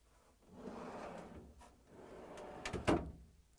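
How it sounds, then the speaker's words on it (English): An LG/Kenmore refrigerator freezer drawer slides out with a rolling, scraping rumble, ending in a sharp knock as it reaches its stop. "And now I'm going to pull out the drawer."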